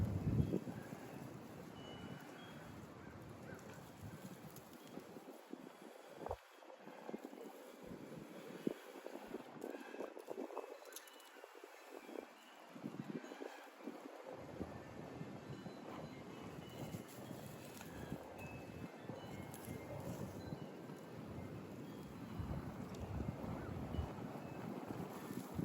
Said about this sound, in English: What a time for 10-mile-an-hour winds to blow in here.